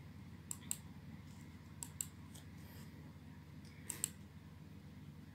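Keyboard shortcut keys for Microsoft Word are pressed in faint, sparse clicks that come in quick pairs and small clusters, spaced a second or two apart in a quiet room.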